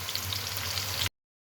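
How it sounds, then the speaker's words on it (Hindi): Chopped onions fry in hot oil for mutton liver masala, giving a steady, close sizzle that runs without a break and then cuts off abruptly. "और इनको हम अच्छे से भून देंगे।"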